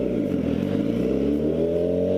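A motorcycle engine gets a little throttle as the clutch is let out, a steady low hum that rises and settles in pitch, close and fairly loud with no talking.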